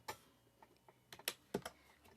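Keystrokes on a computer keyboard as a search is typed into a browser, a handful of light, irregular taps spread over two seconds, faint and close with no voices.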